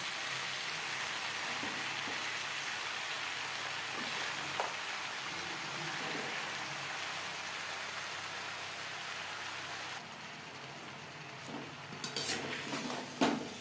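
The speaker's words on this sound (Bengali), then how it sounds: "সবজির সাথে শাক বেশ ভালো করে মিক্স করে দেবো" Spinach and mixed vegetables stirred in a pan, a steady soft sizzle throughout with occasional spoon taps and clinks against the metal, growing more clattery toward the end.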